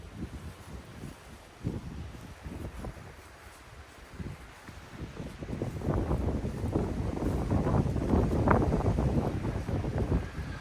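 Gusty wind buffets Durston X-Mid Pro 2 and Double Rainbow Li tents outdoors, starting as a low, uneven rush and building into a louder, sustained gust with rustling fabric flapping over the final seconds.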